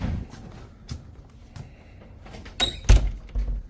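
An office door closes with a muffled thunk and a short rattle, set among light footsteps and shuffling in a quiet room, with no speech.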